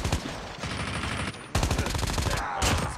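Rapid automatic gunfire rattles in a COD Mobile battle royale match, in close, loud bursts with a short gap partway through.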